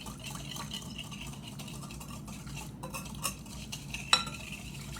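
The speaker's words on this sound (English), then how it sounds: "Going to take your whisk and incorporate these ingredients" A whisk working sesame oil, sugar and spices together in a mixing bowl for Korean beef, giving quiet, continuous scraping and swishing with a few light taps against the bowl near the end.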